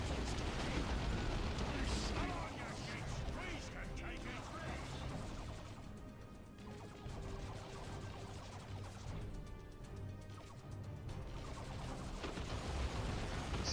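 Grenade spike blasts in the Dawn of War 2 Retribution strategy game, with dense overlapping booms and crashes amid steady gunfire and battle noise, a brief lull near the middle before the barrage swells again.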